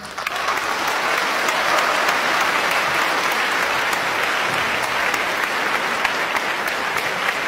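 Warm, sustained applause from a mushaira audience greeting poet Umair Najmi, a thick even wash of clapping that holds at full strength from start to finish.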